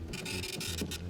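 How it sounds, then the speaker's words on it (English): A quiet, printer-like mechanical whirring and scratching inside a sound-collage track repeats in quick rhythmic bursts over a low steady hum. "Sounds like a printer."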